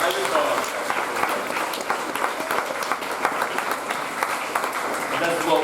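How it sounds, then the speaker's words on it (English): Audience applause at a Gullah/Geechee and Bajan community gathering, with sustained clapping that holds steady for several seconds. "Give another round of applause."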